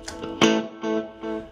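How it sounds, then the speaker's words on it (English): An electric guitar played through an ODR overdrive pedal for crunch strikes four short distorted chords in quick succession, close and clear, with no voices. "putting the ODR on just gives you that little bit of a crunch when you put the volume pedal right down"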